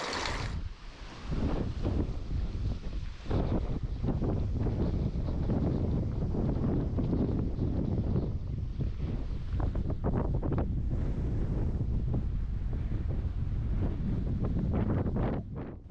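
Strong evening wind gusting at a lakeside fishing camp, buffeting the microphone with a loud, roaring rumble and surging whooshes that rise and fall throughout, steady and close, with no voices.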